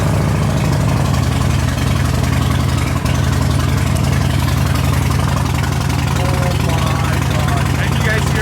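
A Nissan 370Z Nismo engine fires from a cold start and settles into a loud, steady, rumbling idle that holds unbroken throughout, with no speech.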